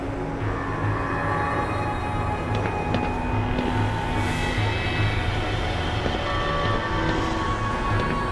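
Black Mesa transit train rolling along its rails in the video game, a continuous loud rumbling clatter with steady mechanical hum and occasional faint clanks, close and unbroken for the whole stretch, no talking.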